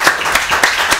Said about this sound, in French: Chers téléspectateurs, on applaudit, s'il vous plaît